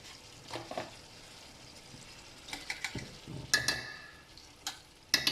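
Butter goes into dhaba-style chicken keema frying in a pan: a faint, low sizzle with sharp spoon taps and scrapes against the pan scattered throughout.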